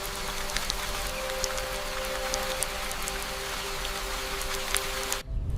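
Steady rain pours down on a surface in a dense, even hiss, with scattered drops ticking through it before it cuts off abruptly near the end.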